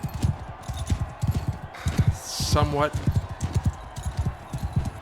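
Horse hooves clip-clopping in Mount & Blade II Bannerlord, a steady rapid rhythm of hoofbeats running under continuous talk, with a brief whooshing swing and metallic clash in the middle.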